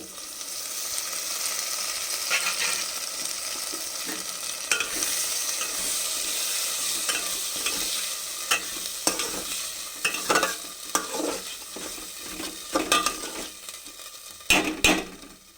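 Ground paste of ginger, garlic, sugar and turmeric frying in a clay handi, a continuous sizzle broken by sharp stirring scrapes and knocks that grow louder toward the end.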